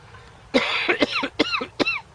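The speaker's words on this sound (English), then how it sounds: "I'll probably be coughing for the next 4 days" A burst of several close, harsh coughs in quick succession, sounding loud and rough with short gaps between them.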